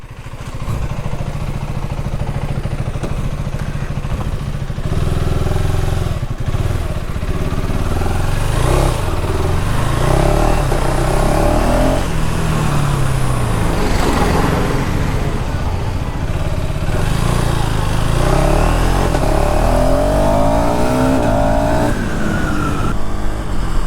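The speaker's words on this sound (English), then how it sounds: "we get the same exhaust note as that of the KTM Duke 390" A KTM Enduro 390R single-cylinder motorcycle on the move, its exhaust note droning and rising through gear changes with repeated throttle surges, close and continuous with wind noise throughout.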